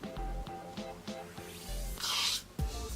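A product sprayed onto a Brazilian curly wig gives a short, close hiss about midway, set among soft handling noises and small bumps.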